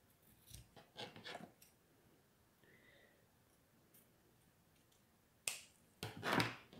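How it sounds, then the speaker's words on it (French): Scissors cut through lace and burlap fabric in a few quiet, close snips, with sharper louder cuts near the end and faint handling noise between them. "Bon, je vais le couper correctement déjà."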